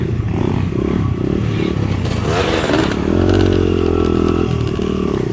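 A dirt bike engine revs hard and close, a loud raw motor drone that rises and falls with throttle bursts, with some clattering and scraping mixed in.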